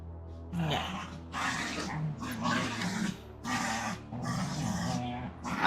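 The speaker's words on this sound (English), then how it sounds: "I don't know if you can hear the dogs going crazy back there" Several dogs somewhere in the background, growling and barking excitedly in bursts with short pauses between them, fairly loud and close.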